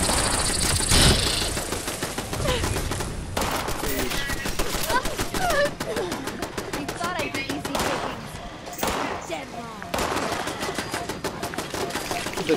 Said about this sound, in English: What are my turrets shooting at?